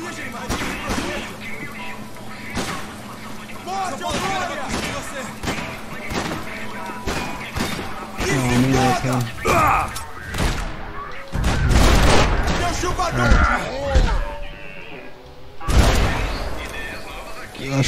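Repeated bursts of gunfire and heavy thuds from the video game Max Payne 3, loud shots and impacts scattered throughout while players talk over the action.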